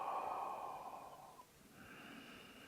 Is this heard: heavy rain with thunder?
no